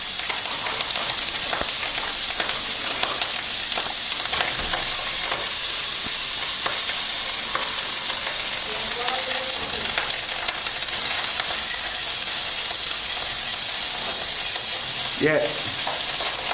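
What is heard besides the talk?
fried rice with eggs sizzling on very high heat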